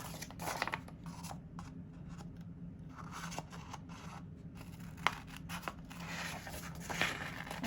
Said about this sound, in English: my scissors, and I'm gonna cut it out.